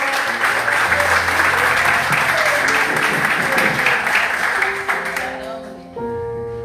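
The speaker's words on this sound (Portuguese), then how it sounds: "Dê um aplauso bem lindo para Jesus." Sustained applause from a church congregation during a Sunday celebration service, a dense wash of many hands clapping steadily for about five seconds before it thins and fades out.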